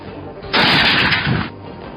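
A single loud gunshot from a Georgian PDShP sniper rifle cracks out close by, followed by a rumbling tail that fades after about a second.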